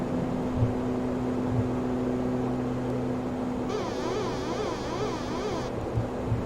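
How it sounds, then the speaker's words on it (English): Pitch trim runs in an ATR 72 in a flight simulator, a buzzing, ratcheting whir lasting about two seconds midway through, heard over the steady hum of the cockpit and engines. "The sound you just heard was the trim,"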